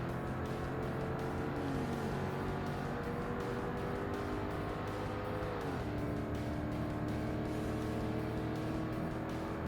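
A C-class race car in the Forza Motorsport video game, racing an endurance event and closing on a Subaru, holds a steady loud engine drone that shifts pitch partway through, with no talk.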